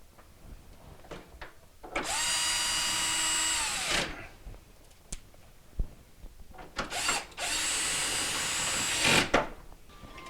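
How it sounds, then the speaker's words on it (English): Power drill driving two screws to hold down a drawer track inside a Whirlpool refrigerator, two loud whirring bursts of a couple of seconds each separated by quieter handling clatter. "We're going to go ahead and put our 2 screws in to hold the track down."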